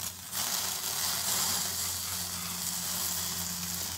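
Tandoori cauliflower roasts on a stand with a continuous, close sizzle and hiss, steady and fairly loud throughout, with no talking.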